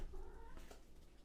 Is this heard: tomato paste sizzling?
no